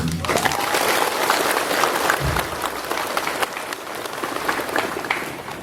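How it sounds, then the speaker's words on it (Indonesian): A crowd applauds steadily at a school ceremony, dense clapping filling the space without pause. "Tepuk tangan."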